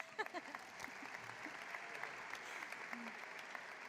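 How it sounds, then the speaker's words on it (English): An audience at a university commencement applauds in a steady wash of clapping, fairly distant and soft, with faint talk underneath. "Clap."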